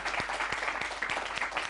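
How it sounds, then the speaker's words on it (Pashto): An audience claps in applause for someone, a faint, steady patter of many hands with a few sharper individual claps standing out at a distance. "چک چک ورته وکړئ"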